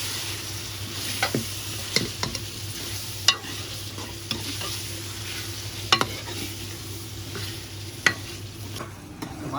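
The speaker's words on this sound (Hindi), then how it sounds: "टमाटर के पेस्ट को भी अच्छे से भून लेंगे हम।" Tomato and green chili paste frying in a pot for aloo gosht, a soft steady sizzle broken by irregular scrapes and knocks of a spoon stirring, close and quiet with no talking.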